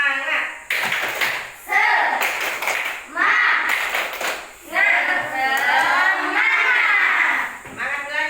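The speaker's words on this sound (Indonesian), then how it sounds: "Tepuk semangat." A class of schoolchildren performs a rhythmic chant-and-clap routine, bursts of sharp unison claps alternating with group voices in a steady, patterned beat.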